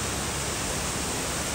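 Strong rushing water of a rain-swollen mountain stream near a village, a loud, steady broadband roar filling the whole stretch with no voices.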